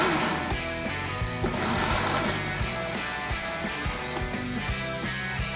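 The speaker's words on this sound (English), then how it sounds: "I'm gonna throw those in the blender, blitz them for a minute" A kitchen blender blitzes coconut flakes for paleo coconut-dusted chicken wings, giving a loud, steady motor whir with a busy rhythmic chopping pulse throughout and no talking.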